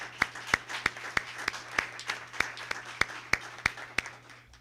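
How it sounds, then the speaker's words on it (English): A few people clap at a school board meeting, their crisp claps landing in a slow, even rhythm over a low steady electrical hum. "round of applause for that"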